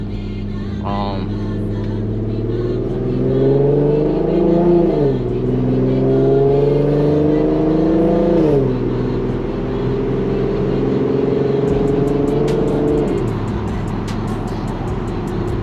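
A 3.7-litre Infiniti Q50 revs hard on a flame map, its engine note climbing and falling in several long sweeps, loud and close, with no talking over it.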